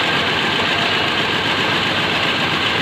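A car engine idles roughly with the AC compressor running and a misfire, giving a steady, loud, continuous rumble with no voices over it.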